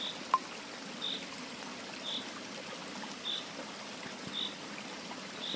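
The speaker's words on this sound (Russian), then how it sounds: "Вот такой ручей течет здесь." A small stream trickles faintly and steadily beside a country track near Taruska, a soft continuous water sound with a few gentle gurgles and no voices.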